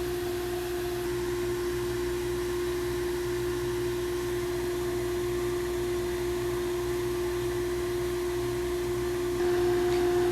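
A sandblaster blasts a paver brick through a 4mm mask with a constant loud hiss and a steady compressor drone that holds unbroken throughout.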